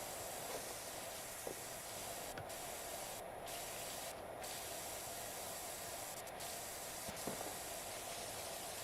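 A pressure washer nozzle in the video game PowerWash Simulator 2 gives off a steady, close, broadband hiss of spraying water that runs unbroken throughout, with only brief dips.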